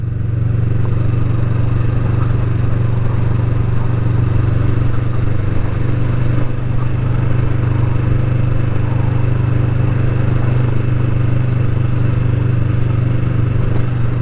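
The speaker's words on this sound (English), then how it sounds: "just driving along at 30 mile an hour, it's a nice civilised bike, and it just gives a lovely blub blub blub just as you're cruising along" A Kawasaki Vulcan S motorcycle engine cruising at about 30 mph on a road ride gives a steady, continuous low burbling drone with rushing noise, unchanging throughout and without talk.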